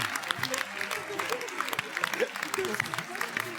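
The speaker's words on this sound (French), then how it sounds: "Je pense qu'on peut se lever pour l'applaudir" A TV game show studio audience claps in scattered, fairly quiet applause while people talk prominently over it. The sparse clapping runs beneath the voices for a few seconds.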